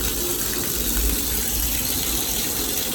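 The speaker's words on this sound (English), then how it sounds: "Oh, there's the water coming out." Steady rushing water pouring from a Delta shower faucet, a constant broadband hiss with low rumble underneath, no voices.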